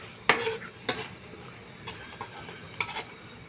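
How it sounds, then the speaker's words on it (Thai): Minced pork for nam prik ong frying in a pan, stirred with a utensil that strikes the metal in a few sharp clinks and scrapes over a soft, steady sizzle, close by. "นี่กำลังคนอยู่ก็เดี๋ยวรอสักแป๊บหนึ่งนะครับ"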